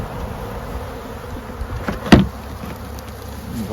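Honeybees buzz around an open feeder during a nectar dearth, a steady low insect drone throughout with a brief louder burst near the middle, no voices.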